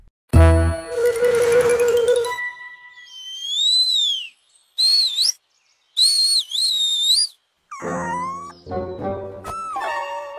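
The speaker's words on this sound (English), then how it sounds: "Scamby likes to whistle while he works whistle" A cartoonish character whistles a string of rising and falling melodic notes, interspersed with bright tinkling tones and a brief electronic chime, clear and close with short pauses between phrases.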